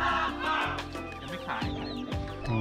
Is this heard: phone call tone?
no